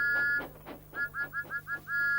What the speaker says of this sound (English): who blows their whistle like that unless you want a noise complaint